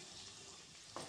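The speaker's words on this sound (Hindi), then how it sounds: "आलू अच्छे से भून के तैयार हो गया" Mashed boiled potatoes frying on medium-low gas flame in a pan, a steady soft sizzle with faint scraping of stirring, close and alone.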